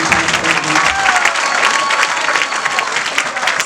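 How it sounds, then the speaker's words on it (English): A crowd at a Jamaican political rally applauds the leader of the opposition, loud dense sustained clapping close by for the whole stretch with faint cheering mixed in. "So please give a round of applause to our leader of the opposition"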